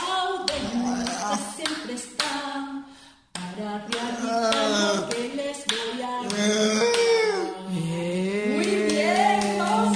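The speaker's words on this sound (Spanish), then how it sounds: "Mis manos aplauden" Hands clapping in rhythm along to a children's song at a special education school music session, sharp regular claps under a singing voice with backing music, steady and close throughout.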